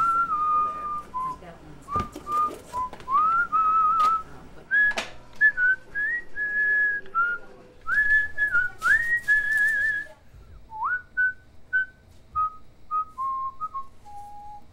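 In a bakery, a man whistles a bright, wandering tune in short phrases and held notes, close and clear against a quiet background with faint shop clatter.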